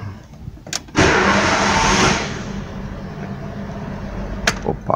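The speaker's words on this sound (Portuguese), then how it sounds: "Vamos ver se ele dá partida aqui." A Fiat Siena Fire 1.0 engine cranks for about a second, catches into a loud, rough burst of running, then dies away to quiet, with faint clicks afterward.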